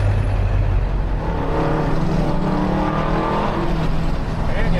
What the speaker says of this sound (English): Man, your truck sounds good.